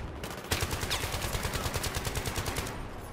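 Rapid bursts of automatic gunfire in the video game Battlefield 3 rattle steadily, a continuous volley of shots at moderate distance with no speech.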